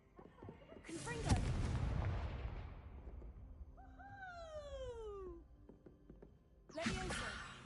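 A Confringo fire spell is cast in the Hogwarts Legacy video game and bursts as a loud, booming explosion with a long rumbling decay, followed by whistling magical streaks and a second blast near the end.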